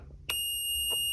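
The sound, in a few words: pH controller alarm sounding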